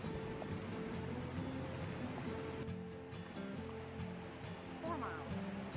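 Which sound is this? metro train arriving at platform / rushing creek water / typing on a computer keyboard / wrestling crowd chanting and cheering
rushing creek water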